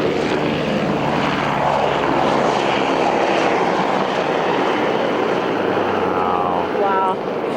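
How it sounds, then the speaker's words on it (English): A helicopter flies over Interlaken in the Swiss Alps, its loud broad rotor and engine roar filling the scene steadily and evenly from start to finish. "That's a helicopter."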